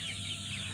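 Philippine gamefowl, False Spark Gray chickens offered for sale, give a short burst of clucking, close and steady, with no voices over it.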